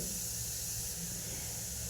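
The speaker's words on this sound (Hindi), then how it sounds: "आपने सीटी सुनी होगी जो भी बज रही है" A pressure cooker cooking rice lets off its steam whistle, a steady loud hiss that runs without a break from start to end.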